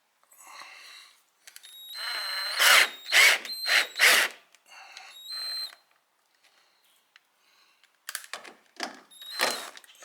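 Power drill driving fat-headed screws through rubber roof rail seal on a 1968 Pontiac GTO, in several short loud whirring bursts with pauses, some louder and closer than others.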